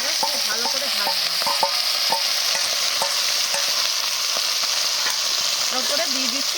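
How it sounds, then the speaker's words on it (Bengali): Bottle gourd peel frying in a pan gives a steady, even sizzle with light scraping of a spatula stirring throughout, and a faint voice murmurs now and then. "লাউয়ের খোসাটাকে এবার খুব ভালো করে ভাজবো।"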